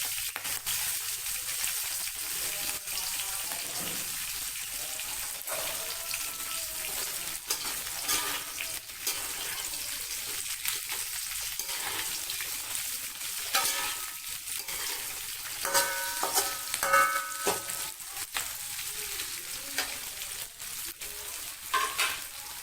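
Tofu stir-frying in a pan for a simple tofu and bean sprout sauté, a continuous loud sizzle with stirring scrapes and occasional clatters building toward the end, no voices.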